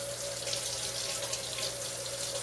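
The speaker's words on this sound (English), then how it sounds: "turn on the water." A bathroom sink tap runs steadily while makeup brushes are washed with baby shampoo, giving an even, close hiss of flowing water with no speech.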